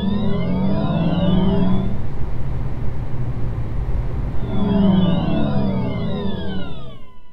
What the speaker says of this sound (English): they now released the noise that the Id.3 is making, so from 0 to 30, then 30 to 0 down for pedestrian safety.